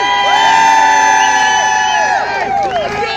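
A large crowd at a live show in Preston cheers and whoops with many high shouting voices, loud and continuous throughout, with some clapping mixed in.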